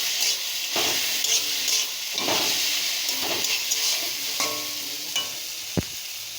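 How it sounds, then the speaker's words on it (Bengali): Fried prawns being stirred into taro leaves frying in a pan, a constant hissing sizzle with periodic scraping stirs and one sharp clink near the end, close up and without speech. "চিংড়ি মাছগুলো দিয়ে দেব, দিয়ে ভালো করে মিশিয়ে নেব"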